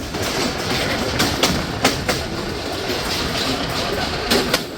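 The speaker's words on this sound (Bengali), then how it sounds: "ট্রেনটি এখন থ্রুপাস করে যাচ্ছে হরিয়ান রেলওয়ে স্টেশন" The Tungipara Express intercity train runs through Horian railway station without stopping, a loud continuous rumble broken by sharp clickety-clack wheel beats at uneven intervals.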